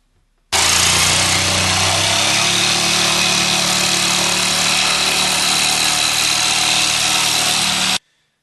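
A jigsaw cuts a round hole in a worktop, starting abruptly and buzzing loud and steady for about seven seconds before stopping sharply, with no talk.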